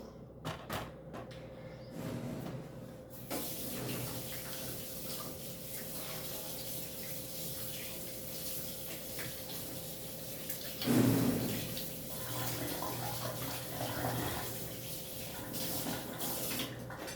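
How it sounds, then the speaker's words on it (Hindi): Tap water runs steadily into a sink for a long stretch during handwashing, with a few clinks and knocks near the start and a brief thump partway through. "तो अब हाथ धो लेती हूँ।"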